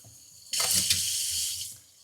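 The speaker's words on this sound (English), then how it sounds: "I can hear the water gurgling." Water rushing and gurgling through a Glacier Fresh under-sink reverse osmosis filtration system as the supply is turned back on, a sudden steady flow that starts partway in, runs loud and close, then tapers off.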